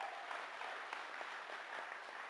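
An audience at a Truth and Reconciliation community hearing in Hobbema, Alberta gives a soft, steady round of applause, heard from a distance as a dense, even patter.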